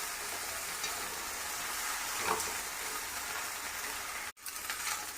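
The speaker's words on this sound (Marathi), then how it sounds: "भेंडी चांगली परतत तर हलवत राहायचं।" Okra sizzles steadily as it fries in a pan over high gas flame, stirred throughout, with a dense continuous hiss and brief scraping of the spoon, one short dropout near the end.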